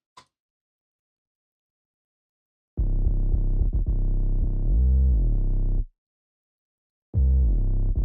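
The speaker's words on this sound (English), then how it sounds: "So combined, the two basses would sound like this." Deep, heavy layered bass lines from a beat remake play in two separate bursts with a pitch-bending slide in the middle, after a brief click and a few seconds of silence.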